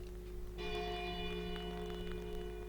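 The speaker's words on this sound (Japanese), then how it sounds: "ゆっくりと何度も鐘が打ち鳴らされる。" A church bell in the Lost Odyssey game strikes once and its long ringing tone sustains, resonant and steady over a low background hum.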